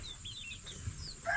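Soft, low clucking murmurs from game chickens beneath faint chirping birdsong, with a slightly brighter call near the end; no talking.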